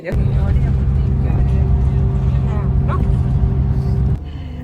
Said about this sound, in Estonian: Me oleme bussis ja liigume Londoni kesklinna poole.